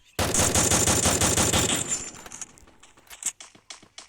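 Rapid automatic gunfire in the Free Fire mobile shooter game, a loud sustained burst of fast shots that breaks into scattered single cracks and impact clicks, alone with no talk.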